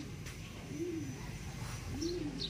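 A racing pigeon coos faintly twice, each a soft rising-and-falling call, set against quiet outdoor background noise.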